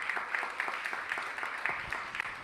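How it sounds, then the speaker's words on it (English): A crowd at a Bay Area hip hop archives launch event gives a round of applause, a fairly faint, steady wash of clapping hands with scattered sharper claps. "give yourselves a great round of applause for hip hop culture today"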